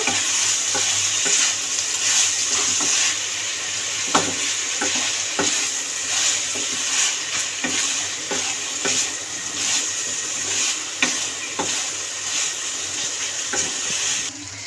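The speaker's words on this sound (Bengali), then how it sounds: "দিয়ে ভালো করে নাড়িয়ে চাড়িয়ে নেব" Mourala fish chorchori sizzles in a pan as sugar is stirred in, with steady frying hiss and repeated scraping clicks of a spatula against the pan, close and continuous without voices.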